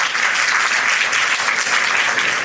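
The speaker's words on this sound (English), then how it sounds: "So please give yourself and Bernardo and the whole team a massive round of applause." An expo audience breaks into sustained, dense applause, many hands clapping loudly and evenly throughout with no voices on top.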